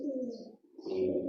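A red Cheena pigeon with khatti eyes, held in the hand, gives low, throaty coos close by, pausing briefly midway, with a voice talking alongside.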